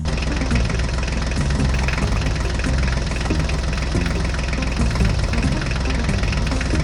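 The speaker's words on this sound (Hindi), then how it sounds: "चलो चलो हल्क ड्राइवर, जल्दी से ट्रैक्टर गाड़ी को लेकर चलो।" Tractor engine runs at a steady idle, a loud, continuous low rumble with a knocking, vibrating pulse and no pauses or voices.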